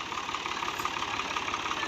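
A New Holland 480 tractor engine runs in a Punjab wheat field, a steady mid-pitched diesel chug with a rapid knocking rhythm, fairly close and alone.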